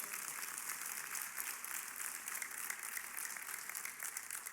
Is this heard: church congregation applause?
yes